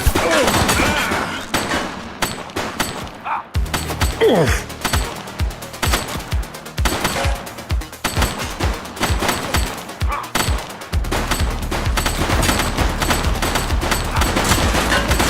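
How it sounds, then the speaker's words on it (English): Rapid bursts of gunfire from a suspect in The Precinct police action game, loud and repeated in clustered volleys with thuds and crashes, with brief shouted voices over the shooting. "She's shooting!"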